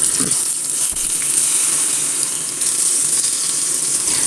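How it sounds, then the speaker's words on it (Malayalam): Raw plantain slices frying in coconut oil in a pan, a steady close bubbling hiss that holds evenly throughout with no talking. "നമുക്ക് ഈ നേന്ത്രക്കായ ഒന്ന് വറുത്തെടുക്കാം പാനിലേക്ക് നമ്മൾ വെളിച്ചെണ്ണ ഒഴിച്ചു കൊടുത്തിട്ടുണ്ട്"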